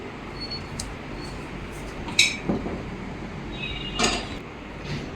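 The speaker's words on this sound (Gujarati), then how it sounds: "આપણે મરચાંને આવી રીતે રીંગના શેપમાં કાપી લેવાના છે" Green chillies are sliced into thin rings on a board in a home kitchen for coriander-and-chilli ring bhajiya, giving a few sharp knife taps and clinks close up against quiet room noise.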